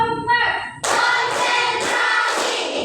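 A group of people claps in unison on a counted cue in a classroom, a single sharp burst of hands followed by a few rhythmic repeated claps, loud and close, with a voice heard just before.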